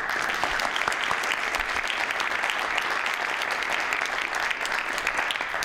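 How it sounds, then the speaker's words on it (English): Steady applause fills a county legislature chamber during a regular session, a dense continuous patter of many hands clapping at even loudness throughout with no break or voices over it. "I wish everybody to give them a round of applause."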